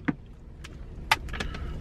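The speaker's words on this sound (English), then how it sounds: "Okay, I'm getting out of the car." Someone getting out of a car at night: a door clunks and keys jangle in short bursts over the low hum of the vehicle, with a few small clicks and rustles close by.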